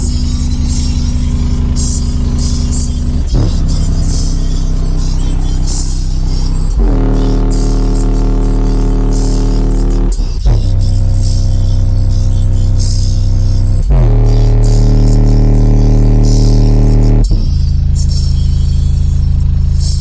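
A budget 1000-watt subwoofer system pounds out loud, booming bass in long sustained notes that switch pitch every few seconds, rattling and heavy throughout with no talking.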